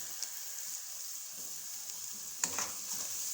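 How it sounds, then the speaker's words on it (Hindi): Spiced samosa filling frying in a pan, a quiet steady sizzle with a sharp scrape of stirring near the end, close by. "ये अब इनको हल्का फ्राई कर लिया।"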